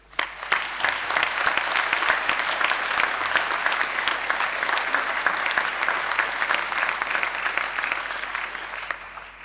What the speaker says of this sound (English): a round of applause for the families and friends